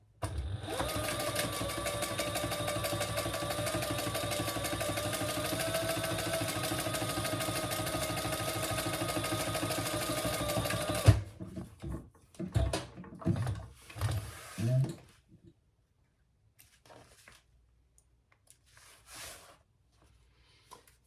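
A sewing machine runs in one long steady burst for about eleven seconds, top stitching a bag pattern, then stops, followed by several short handling knocks and rustles before falling quiet.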